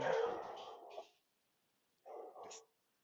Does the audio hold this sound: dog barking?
yes